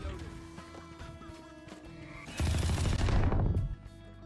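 The Ares heavy machine gun in the video game Valorant fires one sustained burst of rapid automatic shots, loud and close, after a short stretch of quieter game sounds.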